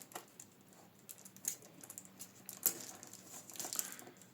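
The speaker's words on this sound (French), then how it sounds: "Allez, je déballe ça proprement." Cardboard and plastic packaging from a Pokémon XY box set is unwrapped up close, with quiet crinkles, tearing and tapping bursts spread irregularly through the clip.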